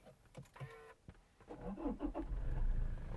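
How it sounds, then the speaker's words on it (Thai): A 2019 Toyota Fortuner 2.8V 2WD diesel starting: a few interior clicks and a brief electric whir, then the starter cranks and the engine catches into a rising, rumbling idle, close and fairly quiet. "มา สตาร์ทรถครับนะเหยียบเบรกสตาร์ทรถครับ"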